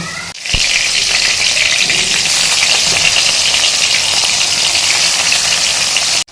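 Salted bitter gourd pieces sizzle steadily in hot oil in a home kitchen, a loud continuous frying hiss running from start to finish after a brief quiet moment, with no one talking.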